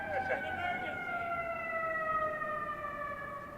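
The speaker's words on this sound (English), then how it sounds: "Should we let the siren go by?" A wailing emergency siren sweeping steadily, its pitch slowly falling as it passes by at a moderate distance during an Earth Day rally and march in Chicago, fairly faint.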